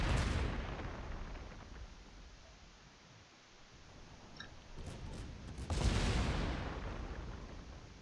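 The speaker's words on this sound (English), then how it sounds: "I keep firing that third turret because I am chain firing" Warship main battery turrets fire in sequence in World of Warships, heard as two deep, rumbling cannon booms several seconds apart, each decaying slowly into a low roar with no talk over them.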